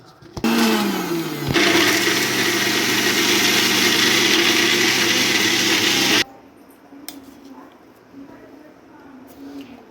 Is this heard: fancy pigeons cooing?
no